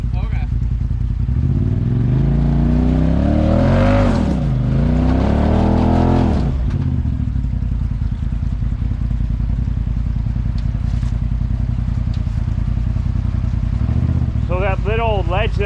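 Polaris RZR side-by-side revving hard on a red rock trail ledge with a tire spinning for grip, the engine rising and falling in loud surges that fade to idle, while people talk over it.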